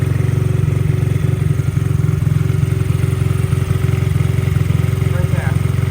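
A Honda CRF50 dirt bike, revived after sitting unused for five years, idles steadily up close with a continuous low, rapid putter, while a voice talks over the engine.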